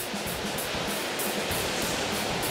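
Surf on the Kashima-nada coast in Ibaraki washes in at the water's edge, a loud, continuous hiss of breaking waves with faint rhythmic swells, with no talk.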